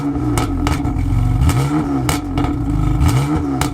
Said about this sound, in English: start the engine up, have a little listen